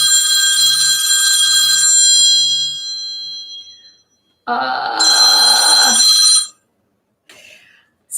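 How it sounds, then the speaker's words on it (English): An old-style telephone bell rings loudly in two long bursts separated by a pause, with a person briefly speaking near the end. "sorry, I can't answer that phone call."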